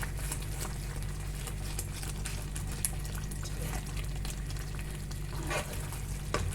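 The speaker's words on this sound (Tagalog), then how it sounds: "Kailangan palang haluin para hindi magtutong." Kinunot being stirred in a hot pan with malunggay so it doesn't burn, a steady close sizzle and frying crackle with intermittent scraping stir strokes.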